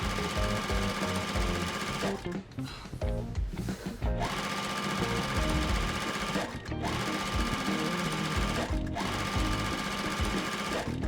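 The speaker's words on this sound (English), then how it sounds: "I'm going to sew directly on each one of these lines all the way down." A sewing machine stitches quilt pieces along marked lines in a steady, loud, continuous run, pausing briefly a few times between seams.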